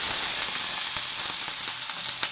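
Thinly sliced onions with green chillies frying in hot oil, giving a loud, continuous close-up sizzle with a few faint scrapes and taps of stirring mixed in.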